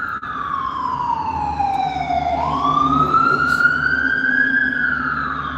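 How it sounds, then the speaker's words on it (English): An ambulance siren passes close by on the road, loud and wailing, its tone sweeping down and then back up over a continuous background of traffic rumble. "Had to let that ambulance go through."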